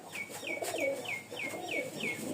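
Pigeons in Rajshahi coo in a steady run of about seven soft, falling notes, evenly spaced and fairly close, with a light murmur of other birds behind them.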